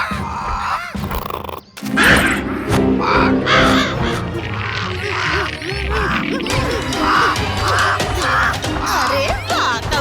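Rhythmic, harsh cawing from a cartoon crow repeats over busy music and sound effects, loud and close.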